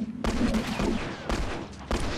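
Gunfire in The Last of Us multiplayer: a few loud, sharp broadband shots in quick succession, separated by short gaps, with a low hum underneath.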